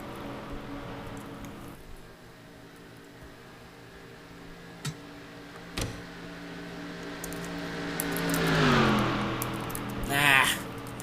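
A NASCAR race car engine in a video game drones steadily on a victory lap, then rises in a revving sweep near the end, with game audio and a commentator talking over it.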